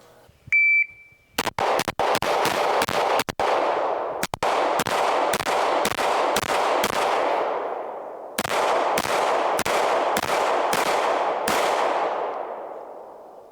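Pistol shots from a Wilson SFX9 at an outdoor shooting range, preceded by a timer beep: sharp, loud reports fired in quick strings, each with a ringing tail, one pause partway through before firing resumes.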